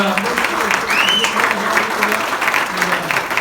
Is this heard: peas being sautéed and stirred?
no